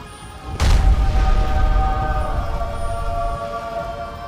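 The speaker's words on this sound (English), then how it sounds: "there's a big explosion" An explosion in the video game Skyrim, set off by a scroll-like spell, lands as a sudden loud boom with a heavy low rumble that lingers and slowly fades under a steady ringing drone.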